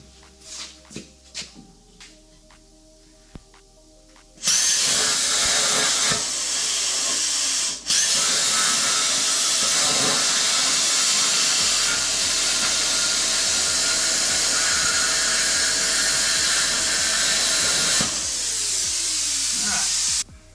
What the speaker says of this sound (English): I'm gonna take the plasma cutter and blow a hole up here